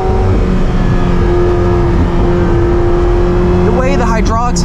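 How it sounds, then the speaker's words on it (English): A 2022 McLaren 720S Spider drones loudly and steadily from inside the cabin, with a sharp rising rev blip near the end as it downshifts. "Downshifting."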